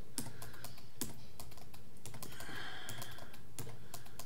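Rapid clicking of calculator keys pressed by hand to enter a run of sevens, a dense, light tapping that comes close and fairly quiet, with a few sharper, louder presses standing out.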